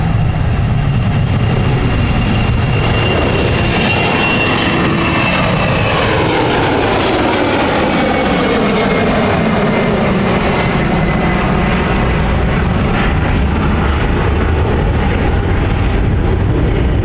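A fixed-wing airliner at London City Airport, a jet somewhat larger than an E190-E2-300, roars loudly and steadily for the whole stretch with a rising, shifting engine whine as it moves past, no talking.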